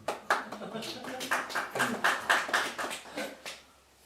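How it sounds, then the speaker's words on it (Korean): Church congregation clapping in encouragement during a sermon, a run of moderately quiet, somewhat uneven claps with distinct individual hits over a few seconds. "격려의 박수"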